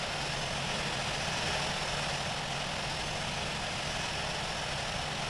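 An airliner taxiing to the runway in the Infinite Flight simulator gives off a steady, even jet engine drone at idle, a continuous broadband roar with no change in pitch.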